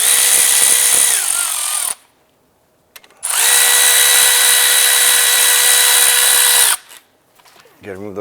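A power tool spins out the 13mm brake caliper bolt on a 2006-2011 Cadillac DTS during CV axle work: two long, loud, steady whirring bursts separated by a short quiet gap, with a brief clatter at the end.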